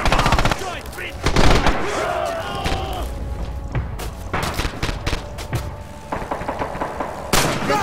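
Rapid machine-gun bursts and single rifle shots ring out in a Red Orchestra 2 multiplayer fight, loud and close, with heavier thuds and distant firing in between and voices heard briefly.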